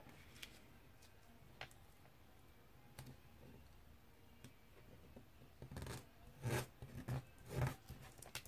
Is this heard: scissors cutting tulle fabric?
yes